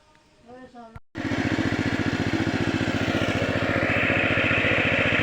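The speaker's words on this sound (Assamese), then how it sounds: "আমাৰ আজি ট্ৰেক্টৰ দি হাল মাৰিব আহিছে" A tractor engine runs steadily at close range while ploughing a field, its rapid, even firing pulses loud and continuous after a brief moment of speech at the start.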